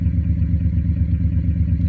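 An engine sound simulated by the Active Sound app gives a loud, deep, rhythmically pulsing idle rumble that runs steadily with no voices.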